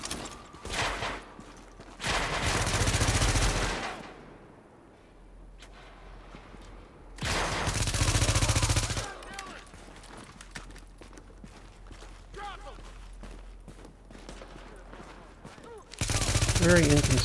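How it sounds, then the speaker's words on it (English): Bursts of rapid enemy NPC gunfire in The Division during a global event assault, loud volleys of a few seconds each, separated by quieter gaps with occasional softer shots. "And I got people shooting at me"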